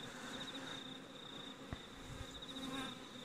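Honeybees massed on the outside of a hive at night hum in a faint, steady drone with a thin high whine, quiet and continuous with a single soft knock partway through.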